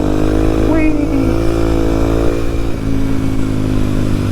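A motorcycle cruising along on a longer ride, steady loud engine drone heard from the rider's helmet with wind rush, a brief rising rev early on.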